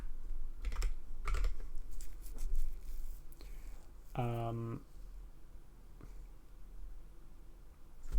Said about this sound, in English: I just want to type that out.